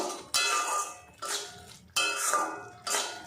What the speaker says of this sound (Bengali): মশলাটা আরও কিছুক্ষণ কষিয়ে নেব